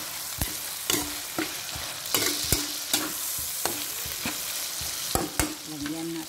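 Tomato being stirred and sautéed in a hot pan, a steady sizzle broken by repeated sharp scrapes and clacks of a utensil against the pan, close and fairly loud with no talking.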